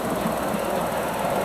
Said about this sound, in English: And there's the train running. The train runs all the way around